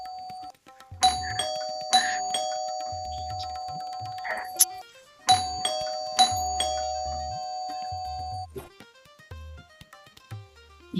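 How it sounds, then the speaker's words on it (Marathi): A doorbell rings with a loud electronic chime melody, played through several times in close succession with short gaps between the tones and no voices over it. "कोण आहे बाई बेल वाजवते?"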